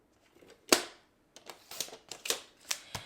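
Card stock for a pop-up matchbook card being cut on a paper trimmer, giving one sharp snap followed by a quick series of crisp clicking chops, close and fairly quiet.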